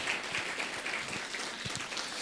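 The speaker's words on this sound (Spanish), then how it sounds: "vamos a dar fuertes aplausos" Soft, steady applause from a church congregation during a Sunday service, somewhat distant and muffled, with occasional low thumps underneath and no talking.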